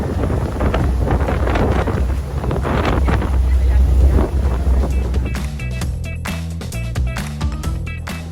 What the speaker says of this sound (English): we're going to ride the Manly Ferry over to Manly Beach